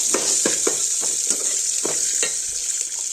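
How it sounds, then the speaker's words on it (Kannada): Onions and spices fry in a pan for rasam, giving a steady high sizzle broken by repeated scraping strokes of a spatula stirring the pan, close and fairly loud, with no talking. "ಇದನ್ನೆಲ್ಲದನ್ನೂ ಫ್ರೈ ಮಾಡ್ಕೊಳ್ಳಿ, ಚೆನ್ನಾಗಿ ಫ್ರೈ ಆಗಬೇಕು."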